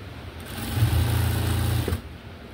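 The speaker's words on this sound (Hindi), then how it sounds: "एक पैर की सिलाई मार रहा हूँ मैं।" A sewing machine runs in one continuous burst of about a second and a half, humming and whirring close by as it stitches the leg seam of a palazzo skirt, then stops.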